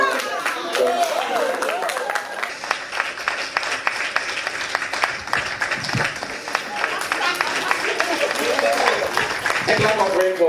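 An audience at an airline's travel partner awards event in Ghana breaks into scattered clapping, uneven bursts of hands over background noise with a voice speaking at times.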